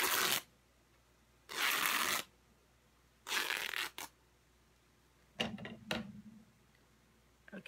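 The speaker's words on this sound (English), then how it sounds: "you're gonna cut about an inch and a half, almost 2 inches, through the salvage and rip this one." Cotton craft fabric being torn by hand along the selvage after a short cut, several rough tearing bursts of about half a second to a second each, close and fairly quiet with gaps of near silence between them.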